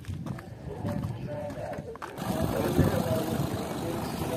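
A silver Avante car idles at a used-car market in Osh, its low, steady engine rumble running under nearby voices and the general bustle of the lot.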